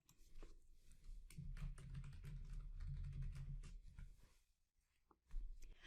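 A name being entered on a computer keyboard, heard as soft, close key taps over a low, murmuring room rumble that fades before a final thump.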